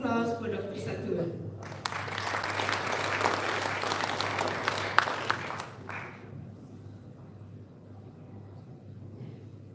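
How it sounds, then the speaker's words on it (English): Audience at the BlockBali 2018 blockchain event in Bali bursts into a dense wash of applause welcoming a speaker, swelling for a few seconds then fading out, with speech over the start. "Ladies and gentlemen, please give a warm applause for Dr. Satur."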